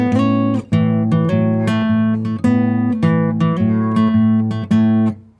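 Electric guitar plays a blues answer phrase, a repeating riff of plucked notes and droning low strings with steady rhythmic attacks, up close and alone.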